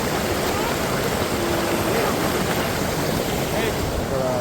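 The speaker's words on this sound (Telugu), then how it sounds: "వెనకాలేమో నీళ్ళు, వెనకైతే వాటర్ ఫ్లో ఉంది." Flowing water from a waterfall in Kullu makes a dense, steady rushing roar, loud and continuous, with faint voices now and then beneath it.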